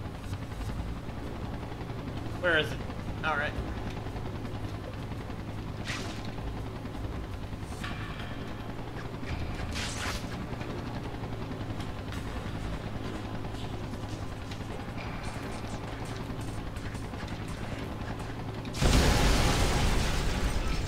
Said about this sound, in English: Oh god, they got a chopper as well?